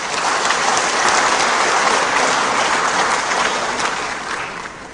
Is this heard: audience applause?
yes